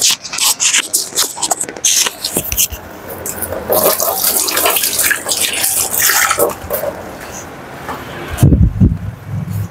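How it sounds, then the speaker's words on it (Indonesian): Water runs from a tap during handwashing at home, a close, splashing rush that keeps up for most of the stretch before it stops, followed by a few handling knocks. "Saya nak cuci tangan."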